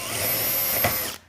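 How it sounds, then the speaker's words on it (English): A drill bit bores into the center of a rivet while finishing a robot swerve chassis, giving a steady loud whine that rises in grit near the end as the rivet gives way, then stops abruptly. "you just drill right into the center of the rivet"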